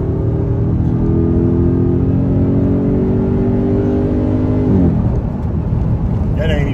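A car accelerating with the gas pedal pressed about 40%, a loud steady engine drone that rises in pitch and then shifts near the end, heard from inside the cabin with no talking.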